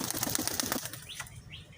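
A black-eyed Madras pigeon is let go and beats its wings in a quick, close flurry of flaps that fades into quiet, with a couple of faint chirps after.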